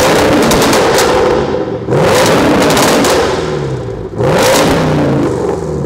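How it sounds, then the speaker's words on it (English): Land Rover Defender with a 5.0 V8, exhaust valve open, revs hard and loud in two long, close bursts, each climbing to a roar and dropping back to a rumbling idle between them, with no talk. "we'll open the valve and let you hear it with the valve open"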